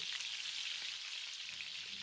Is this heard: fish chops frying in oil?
yes